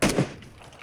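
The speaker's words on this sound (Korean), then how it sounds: "나 쏜다" A single gunshot fired in PUBG Battlegrounds, a sharp loud crack with a short second burst and a fading tail, heard alone without talk.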